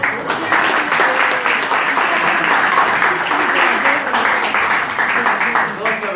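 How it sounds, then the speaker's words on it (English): Warm audience applause at a Sunday spiritual talk gathering, a steady, full crowd clapping that holds evenly throughout, with some voices faintly mixed into the background. "So let's give them a warm round of applause."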